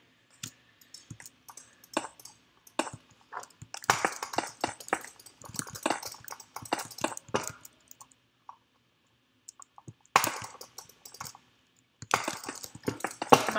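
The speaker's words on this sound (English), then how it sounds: "Butterfly clicking, I'm just terrible at it." Rapid butterfly clicking on a computer mouse during a Minecraft Java Edition Bedwars match, dense bursts of sharp close clicks with brief pauses between flurries.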